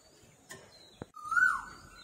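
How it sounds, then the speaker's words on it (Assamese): An Asian koel calls in spring with a single clear, rising whistled note that swells and fades, heard at moderate distance over a quiet background, after a few faint clicks and no voices. "আৰু এয়া ফাগুন মাহতে কুলি এনে সুন্দৰকৈ মাতি আছে চাওকচোন।"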